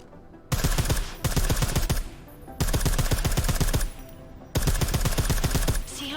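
Silenced gunfire in Deus Ex: Mankind Divided comes in three loud bursts of rapid automatic shots, each lasting about a second and a half, separated by brief quiet gaps.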